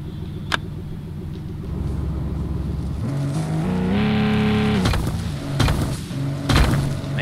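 An off-road vehicle stuck in Offroad Mechanic Simulator, its engine rumbling low and steady, then revving harder and rising in pitch through the middle before easing back, with a few sharp clunks and bursts near the end.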